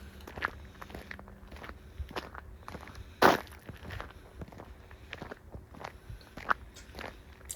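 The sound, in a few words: footsteps walking on gravel road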